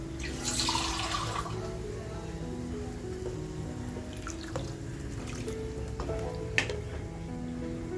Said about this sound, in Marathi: तर आपण पाणी टाकून घेऊया.